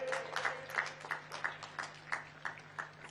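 Scattered applause from the audience welcoming Amit Shah at the Bastar Olympics 2025 closing ceremony in Jagdalpur, distinct claps in an uneven rhythm, fairly faint and distant over a steady electrical hum.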